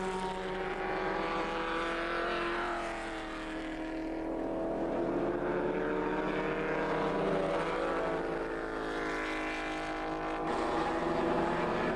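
Pre-1966 Formula 1 racing cars at Silverstone, a continuous loud engine roar with a rising and falling pitch as the cars pass close by, with no talk over it.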